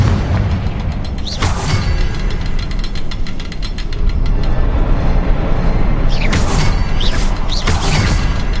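Confringo blasting spell explosions in Hogwarts Legacy, a rumbling low boom with crackling bursts that swell twice, loud and continuous over a dense game soundscape.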